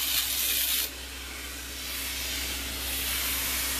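A steady, broad hiss of a carpet pre-spray sprayer runs continuously, briefly dipping then resuming at a moderate, even level with no voices.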